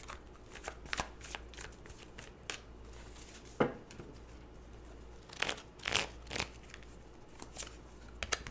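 Tarot cards being shuffled up close, a soft, steady riffle of crisp card flicks and slides with occasional sharper snaps, quiet and alone.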